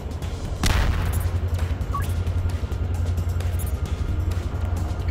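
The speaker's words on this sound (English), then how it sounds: "Disruptor grenade. Sweet. Let's see how far we can chuck that." Grenade blast in the video game Cortex Command, a single sharp broadband burst near the start followed by a low rumbling tail and scattered game effects, with steady background hum throughout.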